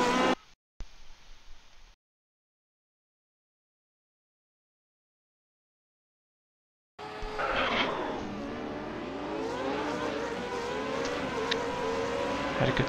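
A Formula Renault 3.5 race car launches from the start at Suzuka with dual-clutch shifts: after a short burst of noise and a long silence, a loud, close engine roar rises in pitch through repeated gear changes.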